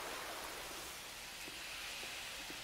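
Dense water flows steadily in Resident Evil 2 Remake, a faint, even hiss-like rush with a few soft drips and no voices.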